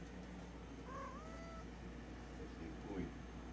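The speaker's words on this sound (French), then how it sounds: "C'est le chat de la portée." Kitten from a litter meowing indoors, one or two faint short mews with a falling pitch over a steady low background hum, quiet and somewhat distant, with soft talk nearby.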